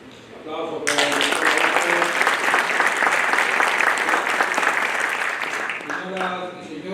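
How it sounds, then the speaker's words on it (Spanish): Audience applause at a formal ceremony closing a panel discussion on social protest and use of force, a sustained wave of dense clapping lasting several seconds before fading, with a speaker's voice heard briefly before and after. "Aplausos para el"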